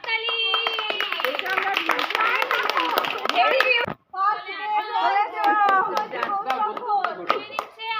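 A group at an outdoor picnic claps in appreciation, dense and lively applause that stops briefly and then resumes, with children's voices and chatter mixed in.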